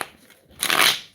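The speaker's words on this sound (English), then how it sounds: "we're just going to shuffle our little cards" Playing cards are shuffled close by in one quick riffling burst of crisp flutter after a short pause, with no talking.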